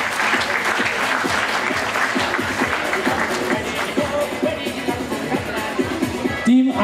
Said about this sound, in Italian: Facciamogli un applauso.